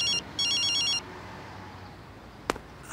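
A telephone rings in two short electronic bursts, a brief trill followed by a longer one, then falls silent against a quiet room; no one speaks.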